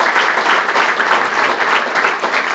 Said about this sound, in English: Please give him a round of applause if you will.